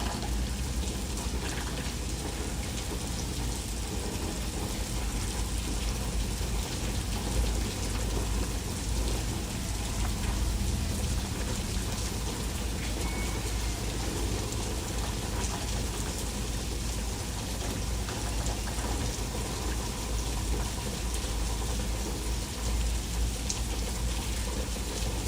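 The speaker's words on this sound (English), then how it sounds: "There's a lot of rain coming down, guys, right now." Heavy rain from Tropical Storm Hilary pours down in southeastern California, a dense unbroken roar of water with splashing and runoff, steady and loud throughout without talk.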